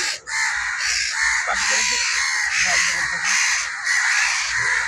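Crow cawing repeatedly and loudly near a net where a young crow is trapped, harsh calls in a steady series with faint talk in the background.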